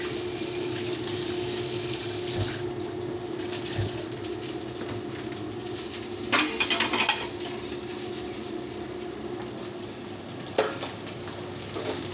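Dishes being washed under a running kitchen tap while steak cooks in a pan nearby, a steady rush of water with a few louder splashes and clatters, no talking.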